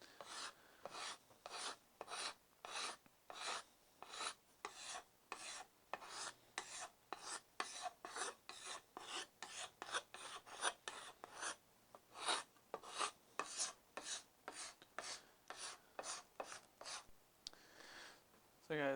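A card scraper is drawn along a wooden axe handle in steady, evenly spaced rasping strokes, about two per second, close and crisp, with faint talk in the background.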